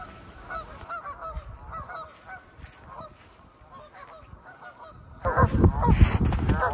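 Ducks on a pond honking repeatedly in short, nasal bursts, fairly close, with louder rustling and handling noise near the end.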